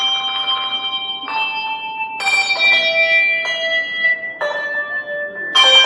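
A handbell choir rings the Texas state song, clear sustained bell tones struck one after another in a slow melodic line, each ringing on with a long decay.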